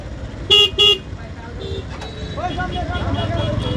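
Two loud, short car-horn toots sound in quick succession amid the steady rumble of vehicles stuck in a traffic jam in Tarakanda, with idling engines and street noise continuing throughout.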